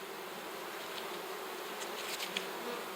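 Honey bees buzz at a strong hive, a steady, faint, even drone with a few individual bees passing close now and then, no voices.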